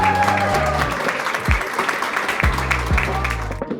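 Crowd applause at a college fest, clapping under loud amplified music with strong bass thumps and tonal notes, the clapping fairly steady and close over a few seconds.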